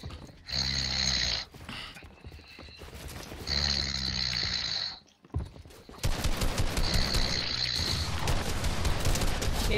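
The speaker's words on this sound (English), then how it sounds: "Yo, who's snoring?" Someone snores in repeated rasping breaths, three long drawn-out snores separated by pauses, fairly loud and close, with clattering background noise between and after them.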